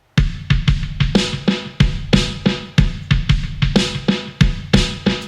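A simple drum beat of punchy kicks and crisp snares repeating steadily, each hit trailing into heavy echoing delay repeats, loud and alone.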